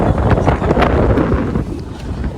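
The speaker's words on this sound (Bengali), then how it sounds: "অনেক বাতাস।" Strong wind before a rainstorm buffets the microphone outdoors, a loud continuous roaring rumble with gusty swells throughout.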